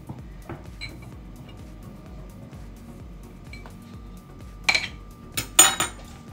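Quiet kitchen handling noises, then a few sharp clinks and clatters as sausages knock against a glass jar near the end.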